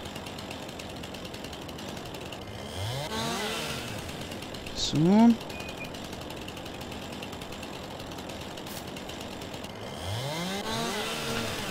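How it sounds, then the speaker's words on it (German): Chainsaws cut wood in Farming Simulator 19, heard as a steady, buzzing mechanical drone with rough ratcheting bursts. A voice speaks briefly under the noise. "Man hört es hier ja ständig, Motorsägen."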